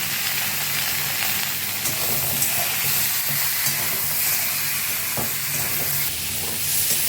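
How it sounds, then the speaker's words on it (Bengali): Pointed gourd frying lightly with turmeric and salt in a pan, a steady close sizzle with stirring clatter throughout and no talk. "পটলের মধ্যে দিয়ে দেবো হলুদ এবং নুন দিয়ে ভেজে নেবো পটলটাকে হালকা করে"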